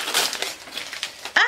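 Taped gift wrapping on an advent calendar present is torn open with crinkly, crunching paper rips and a sharp tape pull at the end, close and fairly loud.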